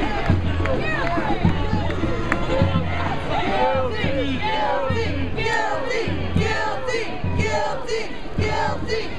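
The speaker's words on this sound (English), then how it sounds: "Still a crowd here." A street rally crowd in downtown Oakland near 14th and Broadway, dense overlapping voices and shouts with rhythmic chanting and a repeating low drum-like thump, loud and close throughout.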